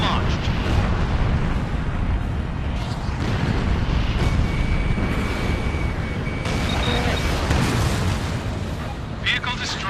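Missile blasts in the Ace Combat Infinity campaign: a continuous heavy rumble of explosions and booming impacts fills the whole stretch, with radio-style voices talking over the combat.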